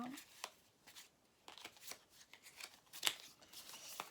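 A deck of tarot cards is shuffled close by in repeated riffling bursts and soft slaps, with quiet gaps between them and a voice talking faintly over the shuffling.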